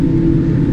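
Steady, loud low rumble and broadband roar inside the cabin of a TUI Boeing Dreamliner as it taxis, a continuous engine and airframe drone with no voices.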